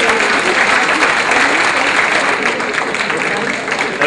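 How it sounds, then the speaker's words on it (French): A seniors' New Year greetings gathering at a town hall fills with steady, loud audience applause that holds dense and even throughout. "Si vous applaudissez encore plus fort, elle va finir par pleurer."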